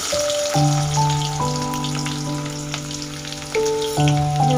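Finely chopped onion fries in hot oil with popped mustard seeds and cumin, giving a steady, close sizzle that runs under sustained tonal background music.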